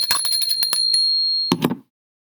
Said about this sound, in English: I just heard ring ring, so I rang the bell.